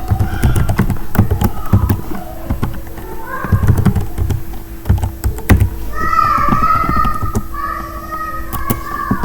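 Computer keyboard typed rapidly while writing C code, irregular bursts of sharp clicks and key taps, close, mixed with faint background voices.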